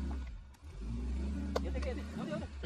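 Maruti Fronx car engine straining up a rocky, stony slope, a low steady drone with rising effort and a few knocks of loose stones, heard at moderate distance beneath people talking.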